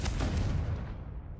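Confringo blast spell explosion in the Hogwarts Legacy video game, a single heavy booming burst that rumbles loudly and then fades quickly.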